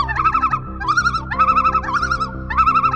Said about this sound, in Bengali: লোন পাখির আওয়াজ অনেক সময় গভীর, দীর্ঘ এবং গম্ভীর শোনায়।